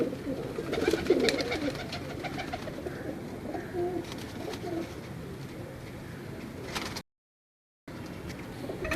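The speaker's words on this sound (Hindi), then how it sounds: "ये जी पूरा कबूतर है तमाम दोस्तों की स्क्रीन पर।" Pigeons kept by a hobbyist coo in repeated soft, throaty phrases close by, with some faint background noise and a brief gap near the end.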